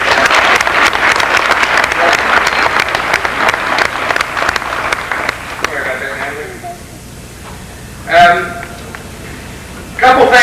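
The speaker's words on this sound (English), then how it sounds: "I think you can give them a round of applause" An audience claps for students at a 1996 Magnolia High School ring ceremony: about six seconds of dense, loud applause that fades away, leaving a quieter room with a few brief bumps and noises.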